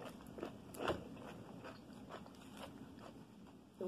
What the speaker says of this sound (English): this is the pickle sandwich that I was talking about that we're eating